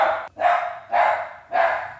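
A dog going wild barks three times in quick succession, each bark loud, close and sharp, with brief gaps between them.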